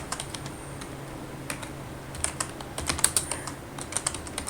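Typing on a computer keyboard during document production work: irregular bursts of key clicks that cluster more densely toward the end, close and fairly quiet over faint room hiss, with no voices.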